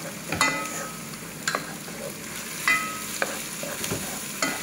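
Tuna frying in a pan with soy sauce, a soft steady sizzle broken by a few sharp scrapes and taps of a utensil stirring, close but fairly quiet, no voices.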